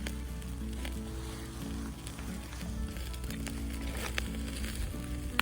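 Pork grills over a charcoal stove, giving a faint, steady sizzle with scattered small crackles and pops, quiet and continuous without talk.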